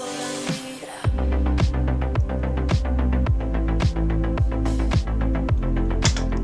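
An early electronic dance track drop without its lead line pounds in with a heavy, booming kick on a steady four-on-the-floor beat, layered bass and percussion after a short build, loud and continuous.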